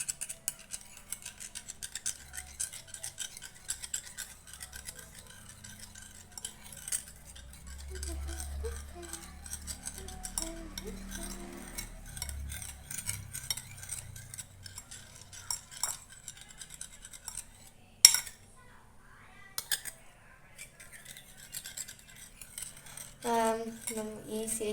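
A spoon stirs food in a home kitchen pot, making faint scattered metallic clinks and scrapes at an uneven pace, with quiet speech in between.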